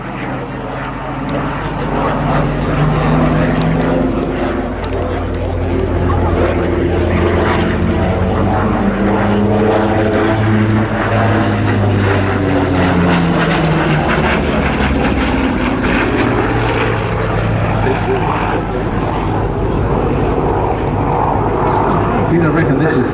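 A loud piston fighter aircraft engine roars past at an air show, its droning pitch sliding as it passes, continuous and close, with a voice talking underneath.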